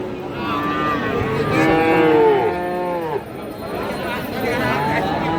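A Friesian crossbreed cow at a cattle market lets out a long, loud moo that rises and bends, with market chatter and voices underneath.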